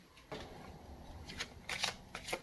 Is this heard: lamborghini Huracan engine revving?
no